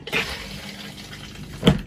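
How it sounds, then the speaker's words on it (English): An RV toilet flushes and rinses itself with water, with two short, close rushing bursts, one near the start and a louder one near the end, separated by a quieter trickle. "You have flushed it down and the toilet rinses itself."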